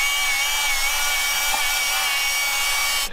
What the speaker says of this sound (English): I'm going to get the frame grinded up so we have a nice clean surface to mark